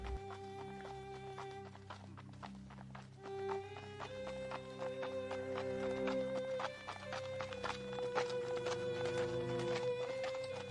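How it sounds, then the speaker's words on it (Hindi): Horse hooves clip-clop steadily as two mounted riders, a king and his minister, set off together, with occasional whinnies over a continuous music bed in a Hindi story soundtrack. "राजा तथा वह मंत्री दोनों अपने अपने घोड़े पर सवार होकर निकल पड़ते हैं।"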